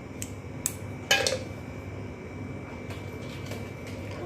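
Banana and Dairy Milk chocolate dropping into a mixer jar for homemade ice cream, a few light clinks and one louder clatter of the jar and utensils, then quieter handling in a kitchen.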